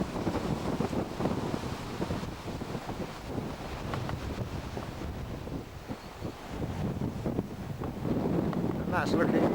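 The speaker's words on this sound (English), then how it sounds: "the wind is blowing like mad" Strong wind roars and buffets the microphone on a fenced cliff-top path on the North Yorkshire coast near Saltwick Bay, a loud continuous rushing that swells toward the end.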